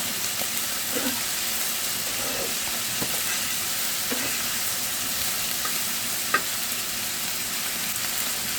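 Chili paste, ground spices and green chilies sizzle steadily in a frying pan, a continuous close hiss broken by occasional soft scrapes of stirring, with no talking.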